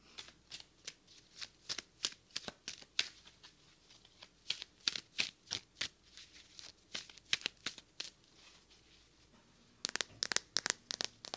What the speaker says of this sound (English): I'm going to shuffle the cards for ASMR effect.